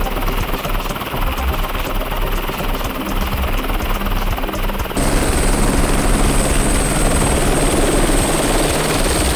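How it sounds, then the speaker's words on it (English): A helicopter roars loudly and close by, its rotor thumping and engine droning steadily, growing a bit louder partway through. "With the helicopter off to pick up another group"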